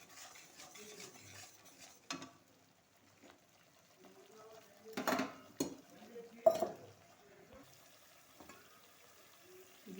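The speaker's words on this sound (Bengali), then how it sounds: "সামান্য লবণ দিয়ে হলুদ দিয়ে এবার একটু নাড়াচাড়া করব।" A spoon stirs bitter gourd with mustard paste, salt and turmeric in a pan, making soft scrapes and occasional sharp metal clanks against the pan. A voice speaks quietly at the start.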